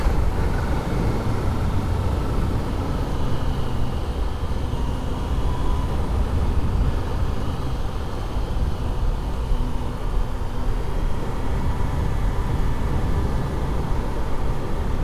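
Steady dense roar of a motorcycle ride on a bumpy road, heavy wind buffeting and engine rumble blending into a constant close noise with no clear breaks.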